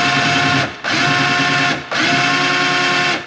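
A power drill drives a toggle bolt into a wall stud while an over-the-range microwave vent hood goes into a log home kitchen. The motor whines loud and close in three sustained runs separated by brief pauses.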